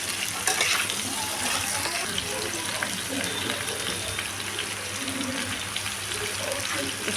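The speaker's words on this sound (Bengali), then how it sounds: "দিয়ে আমি কড়াইয়ের মধ্যে ছেড়ে দিলাম" Turmeric-coated potato pieces fry in oil in a wok with a continuous, moderately loud crackling sizzle throughout.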